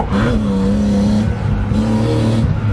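A BMW E36 drift car revs hard after a clutch kick, its loud engine whine rising in two surges close by, with no talk over it.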